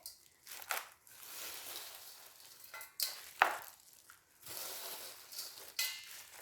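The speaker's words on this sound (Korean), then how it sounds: "기존에 화분에서 어, 쓰던 흙을 같이 이렇게 섞어 줄 겁니다" Old potting soil is mixed by hand while repotting a camellia: gritty rustling and crunching scrapes in short uneven bursts, close and fairly quiet, with pauses between handfuls.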